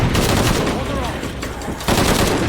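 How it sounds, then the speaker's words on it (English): Sustained automatic gunfire in Shadow of the Tomb Raider, dense rapid bursts that fill the whole moment, briefly thinning before another loud volley, with a voice shouting over the shooting. "Stop shooting!"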